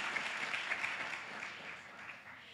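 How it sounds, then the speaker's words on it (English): Soft, distant audience applause at an academic lecture event, a thin even patter of clapping lasting a couple of seconds and fading slightly toward the end. "Great, let's give them a round of applause."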